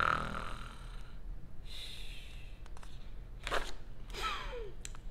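A storyteller's voice imitates snoring during a children's virtual storytime, with a few breathy snorts and sighs close to the mic and no words spoken.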